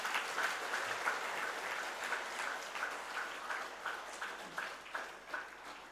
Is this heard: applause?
yes